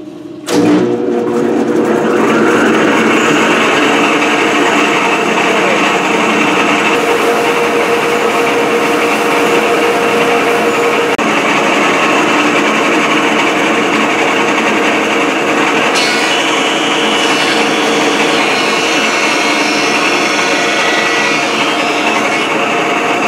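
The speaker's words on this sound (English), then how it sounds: "Here I planed the wood down until it looked like I could round the edges down to about 5/8 thickness." A power tool planes down wood for a Roman gladius scabbard, whining loudly and steadily up close for over twenty minutes' worth of continuous passes, a bright high-pitched motor drone with slight shifts in tone and no talking.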